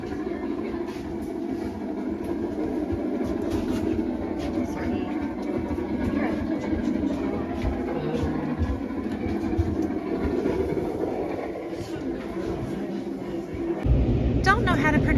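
Steady rumble and clatter of a train running along the line in Scotland, heard from on board as a constant, moderately quiet drone with no clear breaks until a brief shift near the end.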